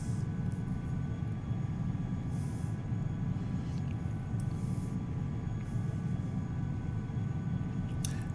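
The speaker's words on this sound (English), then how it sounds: "Yeah, very awesome plane." Steady airplane engine drone from the X-Plane 11 flight simulator, a constant low hum with a few faint clicks and no talking.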